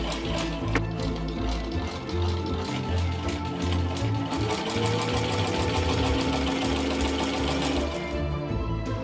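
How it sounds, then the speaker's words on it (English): A sewing machine runs steadily and close by, its rapid mechanical stitching rattle continuous for the whole stretch before stopping near the end. "I get to use my sewing machine"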